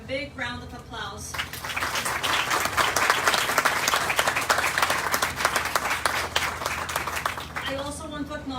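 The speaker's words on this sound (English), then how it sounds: "Please give them a big round of applause." A crowd at a HOPE Clinic groundbreaking ceremony breaks into loud, sustained applause for the board and staff, swelling after a brief spoken opening and fading as a voice returns at the end.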